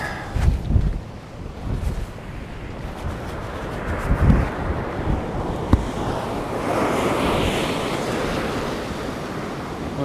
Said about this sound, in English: all you'll be able to hear is the waves crashing anyway